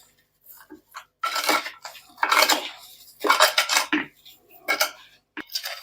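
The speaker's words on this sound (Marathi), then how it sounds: "चमच्याच्या साह्याने संपूर्ण आपल्याला मिक्स करून घ्यायचं आहे" A metal spoon clinks and scrapes against a pot while mixing sugar for homemade tomato ketchup, giving irregular bursts of clattering strokes close up, with short pauses between and no talking.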